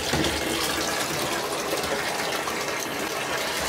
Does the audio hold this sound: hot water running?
yes